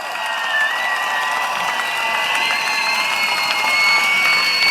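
A large crowd at a People's Action Party election rally in Singapore applauds and cheers, a loud, sustained roar of clapping with scattered shouts and whistles that holds steady throughout.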